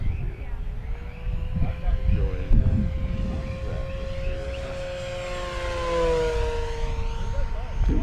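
Banana Hobby P-40N Warhawk RC warbird, 1100mm on 4S power, making a low flyby at an airfield; its propeller and motor whine swells and drops in pitch as it passes close, with no talking.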